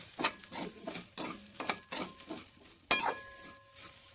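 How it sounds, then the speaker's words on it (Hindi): Spices frying with potatoes, chilli and onion in a pan, gentle sizzle broken by repeated scraping stirs and clinks of a spoon against metal, close and unhurried, with no voices. "देखिए इस तरह से हम मसाला इसको तलेंगे"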